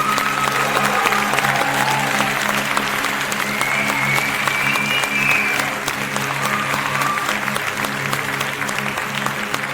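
Steady, dense audience applause fills a hall, continuous hand-clapping at even loudness throughout with faint voices and whistles mixed in.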